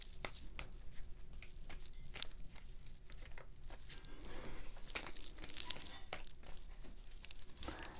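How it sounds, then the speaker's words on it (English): Tarot cards are shuffled slowly by hand, close and fairly quiet, giving a run of crisp riffling snaps and soft slides at an uneven, unhurried rhythm. "I know I'm a slow shuffler."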